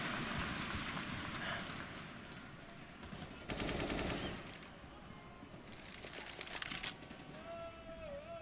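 Automatic rifle fire in Counter-Strike: Global Offensive during a professional esports grand final on the Train map, heard as rapid bursts under a constant crowd and game-ambience wash with faint commentary.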